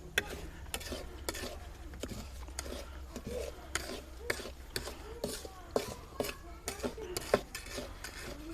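A spoon scrapes and stirs semolina roasting over low heat in a pan, giving repeated clinks and scrapes against the metal in an irregular rhythm, up close and quiet, with a faint sizzle underneath.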